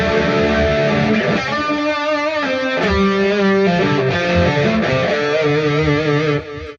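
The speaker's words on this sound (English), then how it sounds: "I've made a lead tone, actually, which has got a little bit of drive, a vintage style drive amp, some chorus, echo and reverb." A very small electric guitar plays a melodic lead line through a vintage-style drive amp tone with chorus, echo and reverb, sustained singing notes and bends over several seconds, loud and alone.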